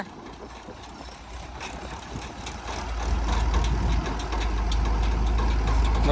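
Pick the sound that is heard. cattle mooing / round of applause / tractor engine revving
tractor engine revving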